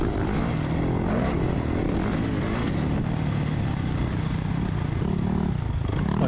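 Suzuki motocross bike at a summer classic race in the 40-plus beginner class, its engine droning loud and steady throughout without pause, with no talk heard.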